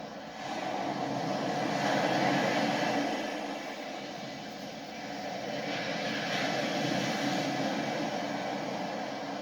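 A helicopter boss in the Final Fantasy 7 Remake video game produces a steady rotor and engine drone, swelling and easing in moderate loudness with no talking over it.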